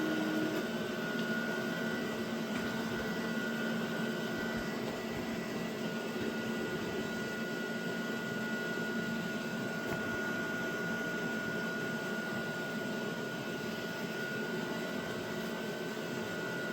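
A DTF printer runs its warm-up cycle with Maintop software, giving a steady mechanical hum and whir with faint tonal whines, continuous and unchanging throughout, with no talk.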